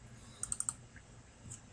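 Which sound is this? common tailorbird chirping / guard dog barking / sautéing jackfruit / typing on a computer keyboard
typing on a computer keyboard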